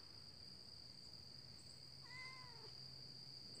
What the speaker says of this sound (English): This is a wild cat.